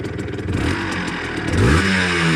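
A Gilera KZ motorcycle engine runs close by, idling with a rough clatter, then revs up and settles into a louder, steady drone.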